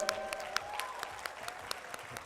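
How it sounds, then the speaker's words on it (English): An audience at a university convocation claps in a faint, scattered round, with individual sharp claps standing out against a quiet hall background. "Can we give a big round of applause?"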